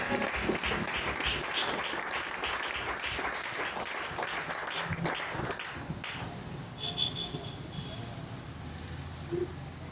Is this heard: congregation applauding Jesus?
yes